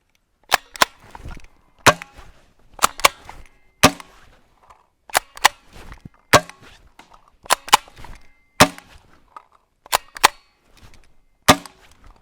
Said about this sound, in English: So now let's do some shooting and just see how it does.